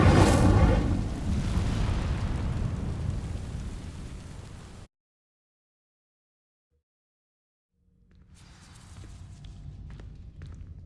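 A fiery Incendio spell cast in Hogwarts Legacy, a loud rushing roar with a sharp burst at the start that fades over several seconds, then silence, then quieter shuffling and scattered game sounds.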